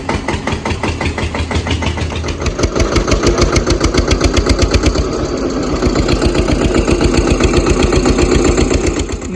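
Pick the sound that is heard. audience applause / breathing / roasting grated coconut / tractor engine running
tractor engine running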